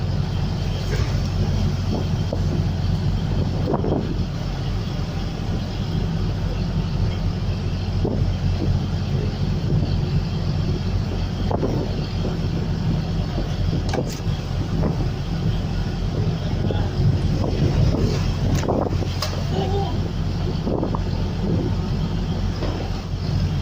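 Rough sea waves and wind around a fishing trawler off Taiwan, a loud continuous low rumble with occasional thumps and splashes.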